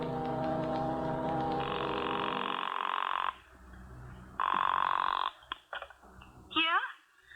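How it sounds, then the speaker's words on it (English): A telephone rings in short repeated bursts, fairly loud and close, with quieter gaps and a brief burst of other noise near the end. "Now, what we wait for is a phone call."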